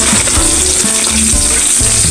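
Sliced onion frying with golden-brown garlic in a pan, a loud steady sizzle running throughout, with low knocks of stirring or tossing the pan at intervals.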